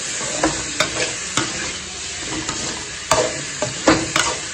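Brinjal coated in chili powder fries in oil for a kara kuzhambu, giving a steady, close sizzle broken by several sharp scraping stirs of the spoon, with no one talking.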